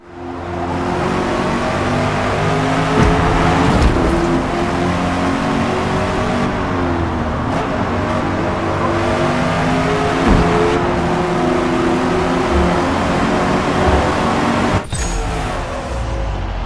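Race cars lapping in a Forza Motorsport 8 practice session with light traffic: a loud, close engine drone holds steady throughout, with pitch rising and falling through gear changes and a few brief passing whooshes, and no voices.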